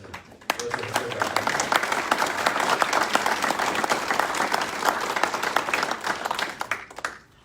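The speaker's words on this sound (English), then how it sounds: "So I just want to ask for a round of applause for our veterans and those who have served our" Audience at a Tea Party Patriots meeting applauding veterans, a sustained round of many hands clapping that swells quickly and fades after several seconds.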